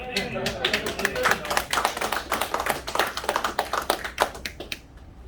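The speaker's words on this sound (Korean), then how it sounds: "변호사님을 위해서 박수 한번 주시죠." An audience at a lecture on election fraud applauds lawyer Park Ju-hyeon with dense, loud, sustained clapping that thins out and fades near the end.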